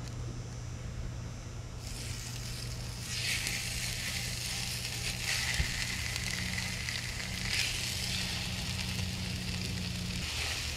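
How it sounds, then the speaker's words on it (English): Sausage browning in avocado oil in a pan gives a steady, close sizzle that swells louder partway through and holds there, with no talk over it. "I'm gonna add a little bit of oil to my pan before I drop my sausage in there"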